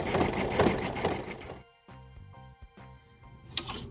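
An embroidery machine sewing a satin stitch, a busy steady mechanical buzz at first, then dropping to quieter intermittent rhythmic ticking and clattering bursts, close and alone.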